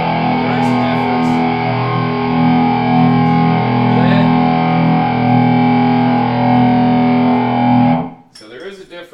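An electric guitar runs through two blended Guitar Rig 5 Pro sounds, ringing out one loud, sustained distorted chord for about eight seconds before it cuts off, followed by someone speaking.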